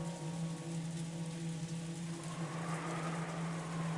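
Pouring rain hisses steadily throughout a visual novel storm scene, a dense even wash over a low sustained background hum, with no distinct thunderclap standing out.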